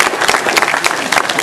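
Crowd applause for a hip-hop dancer at an event, loud close clapping from many hands with a few cheers mixed in, steady throughout.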